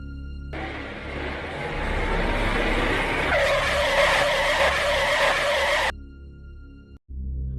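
A car brakes suddenly on a foggy bend, tires skidding in a long, loud screeching squeal over a low engine rumble that cuts off abruptly, followed by a quieter engine hum.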